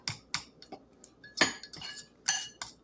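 Utensil stirring silverfish omelette batter of cornstarch and other ingredients in a bowl, heard as several sharp, separate clinks and scrapes of metal against the bowl, up close with no talking.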